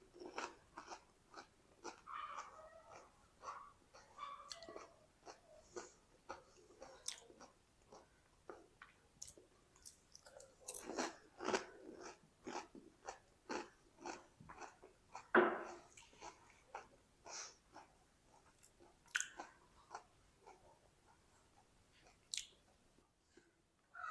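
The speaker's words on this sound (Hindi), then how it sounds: "एक पीस ना हम खा के चेक करते हैं।" Someone bites and chews a crispy fried potato and semolina snack, close and quiet crunching in repeated bursts with soft mouth sounds between.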